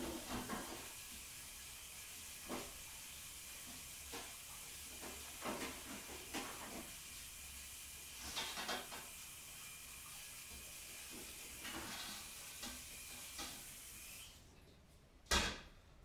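Running water hisses steadily from a tap while something is rinsed in a kitchen before cooking fish curry for nasi lemak, faint and continuous with occasional soft clinks and knocks.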